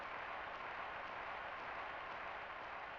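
A steady wash of crowd noise from a Ken Griffey Jr. baseball video game, a dense, even roar of cheering and applause that stays level throughout with no talk over it.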